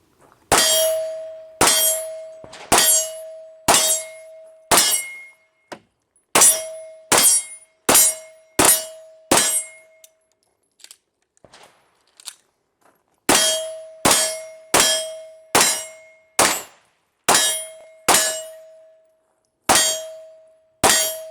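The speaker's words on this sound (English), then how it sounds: "Let's see what we can do with some moving and shooting on the big silhouette." A Glock 34 Gen 5 or Sig P320 X5 is fired during moving and shooting drills at a big steel silhouette target, with ringing metallic clangs arriving in quick strings of hits and short pauses between magazines.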